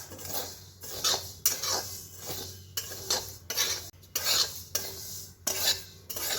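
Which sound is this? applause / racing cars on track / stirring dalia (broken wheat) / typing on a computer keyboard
stirring dalia (broken wheat)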